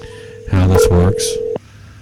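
Loud telephone dialing tones play up close: a steady tone is interrupted by a short burst of several keypad beeps, then the line cuts off. Faint background sounds continue throughout.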